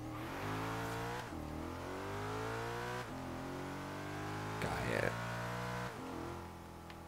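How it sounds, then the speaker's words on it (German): A Porsche engine in Forza Horizon 3 revs at full throttle, a loud, close, sustained roar that climbs through several gear shifts with short dips between them. Tyres squeal briefly near the end. "Warte, ich gebe mal kurz Vollgas."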